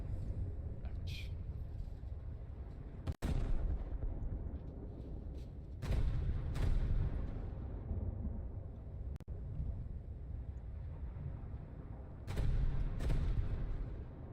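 Secondary guns of the battleship IJN Fuso fire in the World of Warships video game, sounding as several sharp booming reports spaced a few seconds apart over a low rumbling ambience.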